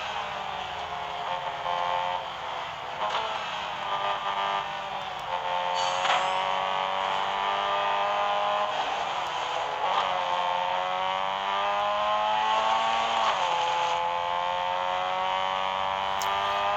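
A Mazda RX-3 in the racing game Real Racing 3 drives with a steady, high engine whine, revs rising and dipping through gear changes over a continuous drone, with no talking.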